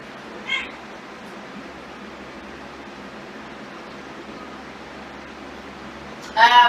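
A kitten at bedtime gives two short, high meows, one faint near the start and a louder one at the end, over a steady background hiss.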